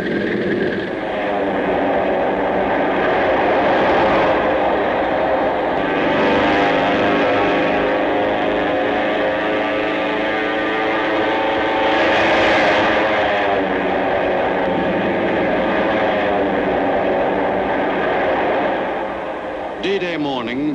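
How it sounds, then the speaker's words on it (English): Engines of World War II U.S. carrier planes run up before dawn on D-Day ahead of the last pre-invasion strikes in the Marianas, a steady loud droning roar that swells and holds for about twenty seconds, with no voices. "the carrier planes were readied for their last pre-invasion strikes"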